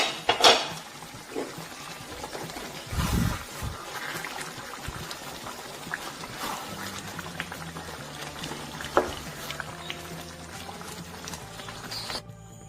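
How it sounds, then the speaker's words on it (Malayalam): Chicken stirred in an opened pot on the stove, with bubbling liquid, scattered clinks of a utensil against metal and a few louder knocks, fairly quiet and close. "ചിക്കൻ നമുക്കൊന്ന് അടുത്ത് തുറന്നൊന്ന് ഇളക്കി കൊടുക്കാം."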